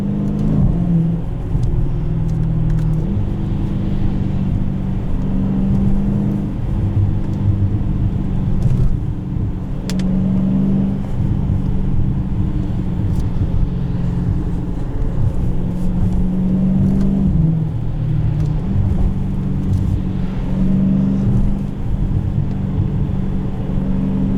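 A 2017 Dodge Challenger T/A 392 with an automatic gearbox accelerates hard, its V8 giving a loud, deep rumbling drone that rises and steps through shifts, heard from inside the car with no talking.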